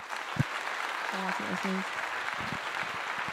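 A live audience gives a round of applause, a fairly quiet, steady patter of clapping with voices and cheers rising over it.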